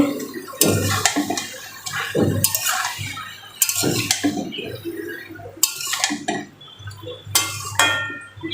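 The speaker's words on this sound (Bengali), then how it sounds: "হাতটা ধুয়ে নিই।" Hands are washed under a running kitchen tap, bursts of splashing water broken by short pauses and light clinks of dishes nearby.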